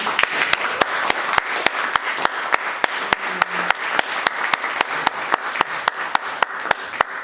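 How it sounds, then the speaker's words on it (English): Audience at a film festival Q&A applauds the filmmakers, with a steady crowd clapping and a few sharp, close claps standing out in a regular rhythm throughout. "another round of applause for them as well"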